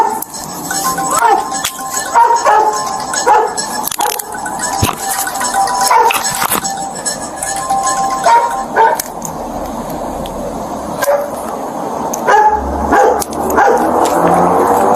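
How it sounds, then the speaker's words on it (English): A police canine barks repeatedly inside a patrol car, sharp barks scattered through a noisy scene with metallic clinks, rustling and people talking over it at close range. "there's a canine in my car"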